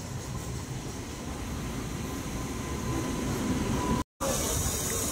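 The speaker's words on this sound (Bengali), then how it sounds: "এই যে ট্রেন চলে গেল" A local train rumbles past at Ramnagar station, a steady loud roll of wheels and carriages that holds from start to finish, with a brief dropout near the end.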